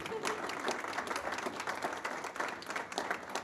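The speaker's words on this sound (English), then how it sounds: "Round of applause." Crowd applause at a business graduation event: many hands clapping in a dense, even roar held at moderate volume throughout, with no talk on top.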